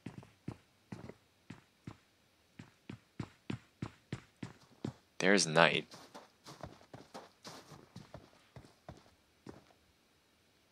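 Footsteps in a video game, a steady series of crisp close steps running throughout, under a commentator's voice, with a brief louder burst midway.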